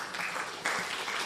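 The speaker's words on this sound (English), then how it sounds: "A round of applause for John." Brief applause from an audience at a live gathering, a soft, even patter of clapping that swells slightly halfway through, heard from a moderate distance.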